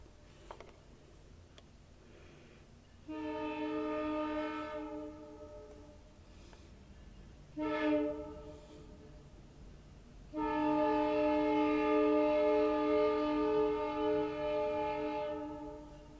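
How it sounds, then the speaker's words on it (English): A train horn sounds near LaSalle, Illinois: a steady blast, then a short burst, then a long loud sustained blast, each rising over a low rumble of the passing train. "So there's your train."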